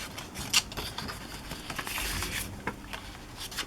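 Scissors snip through paper, trimming vintage printed images for a decorated journal page, producing a few soft, close cutting sounds and light rustling with no speech.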